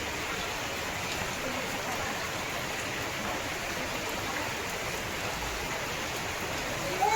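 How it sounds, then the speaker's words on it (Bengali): Rain falls outside as a steady, even wash of noise, heard from indoors and unbroken for several seconds. "বাইরে বৃষ্টি হয়ে যাচ্ছে"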